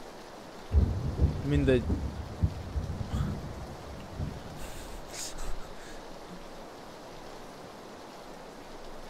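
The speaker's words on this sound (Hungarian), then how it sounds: "Fúj, de nem szeretem ezt az esőt." Steady rain falls throughout as a constant hiss, with a brief voice and some louder rumbles and knocks early on, then settles to an even wash of rainfall.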